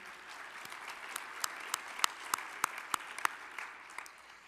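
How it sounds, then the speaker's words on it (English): A conference audience at a tornado summit general session gives a moderate round of applause, individual sharp claps standing out over a softer crowd patter before it fades away near the end. "I'd just like everyone to please give them a round of applause."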